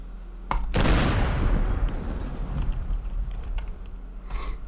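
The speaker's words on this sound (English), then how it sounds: "This is your activate bomb from far away bomb. Because you get your hunting rifle" A hunting rifle shot sets off a nitroglycerin bomb in the Teardown video game: a sharp crack followed at once by a loud, broad explosion whose rumble decays over several seconds, with a second impact near the end.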